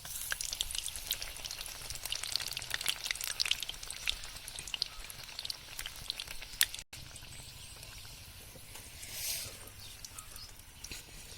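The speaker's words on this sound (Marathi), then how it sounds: "सगळी पानं तळून घ्यायची" Colocasia (taro) leaf fritters frying in hot oil give a continuous soft sizzle with scattered crackles and pops, briefly cutting out partway through, and no talking.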